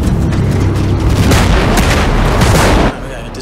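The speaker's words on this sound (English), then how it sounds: "Incoming mortars!" Mortar explosions in Ghost Recon Breakpoint, a dense run of loud, booming blasts and gunfire that rolls on continuously for about three seconds, then cuts off abruptly into a quieter background.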